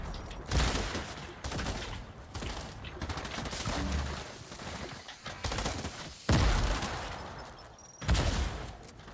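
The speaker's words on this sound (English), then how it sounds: "There's lots of explosives going on." Repeated explosions and bursts of gunfire from grenade launcher fire in the video game Fortnite, loud and dense, with heavy booms around the start, past six seconds and near eight seconds, over a constant busy battle din.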